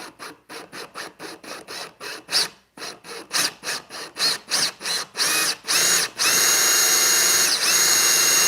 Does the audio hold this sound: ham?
no